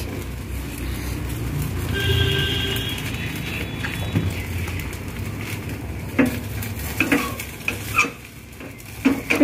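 An egg fries with a soft sizzle in a pan while a utensil scrapes and stirs, with metallic clinks and knocks growing more frequent toward the end, close by.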